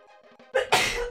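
A single sharp sneeze bursts out close to the microphone, preceded by a brief quiet intake of breath, loud and sudden.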